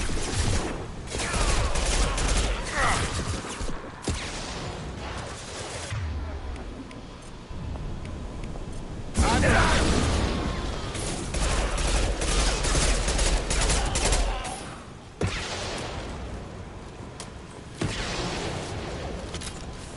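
Sustained gunfire in the video game Mass Effect 2, dense volleys and rapid bursts with booming impacts filling most of the stretch, loud and close, with brief voices in between.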